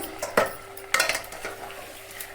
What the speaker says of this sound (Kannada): ಇದನ್ನು ನಾನು ಇನ್ನೊಂದ್ಸಲ ಹಿಂಗೆ ತಿರ್ಕೋತೇನೆ ನೋಡ್ರಿ